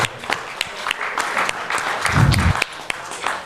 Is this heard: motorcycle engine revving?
no